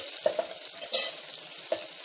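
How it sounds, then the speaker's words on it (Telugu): A steady low crackle of tempering spices frying in hot oil for pappucharu, with a few sharp clinks of a spoon against the pan. "ఈ పప్పుచారుకి పోపు బాగా వేగాలండి"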